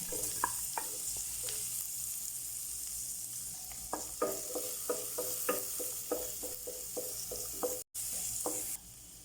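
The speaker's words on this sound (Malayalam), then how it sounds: "വെളുത്തുള്ളി ചതച്ചത് ഇടുക. സവാള ചേർക്കാം." Crushed garlic and sliced onion frying in hot butter in a pan, a continuous sizzle broken by repeated clicks and scrapes of stirring, close and fairly quiet.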